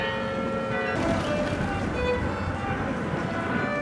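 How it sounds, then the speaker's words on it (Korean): Evening bells of the historic Westerkerk ring out over Amsterdam streets, steady tolling tones layered over constant traffic and street noise. "유서 깊은 서탑교회의 저녁 종소리가 울려 퍼졌다."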